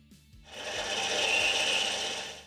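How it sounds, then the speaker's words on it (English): A manual lathe bores a 30-degree wheel-nut seat into hard steel with a boring bar, a rasping metallic cutting hiss that rises after a brief pause and holds steady for about two seconds over a low machine hum. "we get this fancy boring bar holder into the lathe, and set the compound to bore the 30-degree angle that the wheel nut will seat in"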